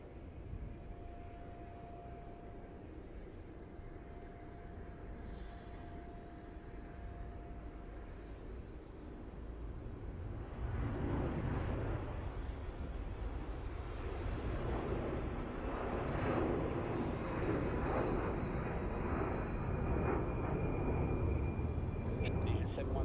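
A jet climbs out after takeoff from Melbourne Airport, its roar swelling from a distant rumble into a broad, sustained wash of engine noise, with faint voices and radio chatter underneath.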